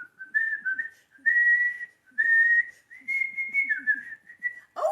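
Someone whistles the marching tune "When Johnny Comes Marching Home" nearby in clear phrases separated by brief pauses, solo with no other sounds.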